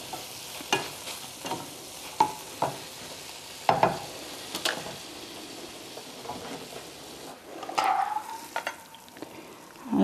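Tofu scramble fries in a pan with water bubbling at the bottom, a steady soft sizzle broken by repeated scraping stirs and clinks of a utensil, close and moderately loud, with no voices.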